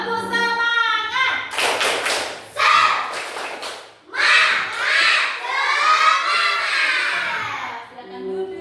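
A school class doing the 'tepuk semangat' rhythmic clapping chant, bursts of children's voices shouting together with claps and thumps in a patterned sequence, led by a teacher's voice, loud and close in a classroom.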